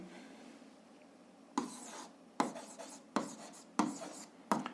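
A pen writes on paper in a quiet room, giving soft scratchy strokes that start after a short hush and then repeat in four or five distinct bursts, close and fairly faint.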